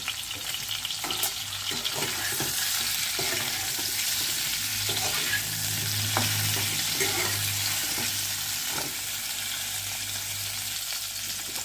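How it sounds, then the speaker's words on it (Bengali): Pieces of boiled potato fry in a pan for an egg and broccoli curry, giving a steady, close sizzle with occasional scraping stir clicks throughout, no voices. "একটু ভাজা হয়ে গেলে আলুগুলোও দিয়ে দিচ্ছি"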